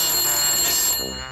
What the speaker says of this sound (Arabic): الصوت المزعج ده حتى يوم الاجازه كمان مشغلين منبه